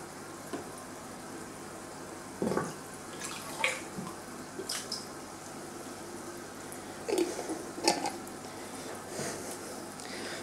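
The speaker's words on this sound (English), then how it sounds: "So I'm gonna pour this in and you're gonna see the fish go crazy." Defrosted bloodworms and water poured into a large fish tank, giving scattered soft splashes, drips and trickles at irregular intervals, close by and fairly quiet, with no talking.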